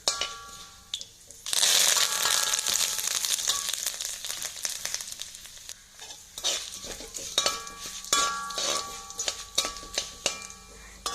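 Curry leaves and chillies hit hot oil with urad dal and burst into loud close sizzling and crackling, which fades to a lighter fizz with scattered pops and stirring scrapes.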